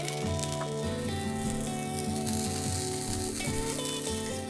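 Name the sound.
lima beans cooking in a paella pan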